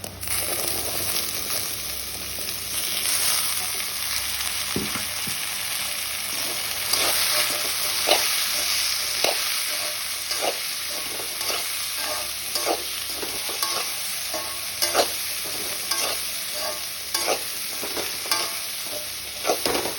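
Chickpeas fry in a pan, sizzling as a continuous hiss with repeated scraping, clinking strokes of a spoon stirring them at a steady pace, close and moderately loud, no talk.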